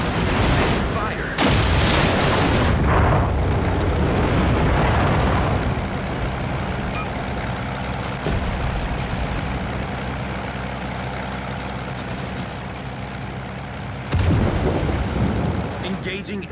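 Heavy weapons fire in a naval combat video game, a few loud booming blasts at the start and one near the end over a steady low engine drone, with spoken callouts under it.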